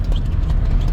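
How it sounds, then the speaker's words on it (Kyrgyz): A horse's hooves pounding at speed, a brief burst of rapid, heavy thuds close to the microphone, with no talking. "Аттын скоросттарын көрөбүз азыр буйруса"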